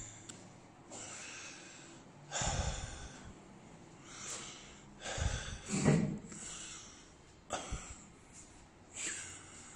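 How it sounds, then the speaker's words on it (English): A person walking through a large house under construction puffs and pants heavily, with loud, rhythmic snorting breaths and gasps repeating every second or two, close to the microphone. "Sorry about my puffing and panting."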